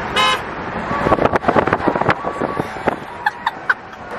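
A Tesla car's horn gives one short honk, then the car plays a brief melodic tune as a few bright tones, with road and wind noise running underneath throughout.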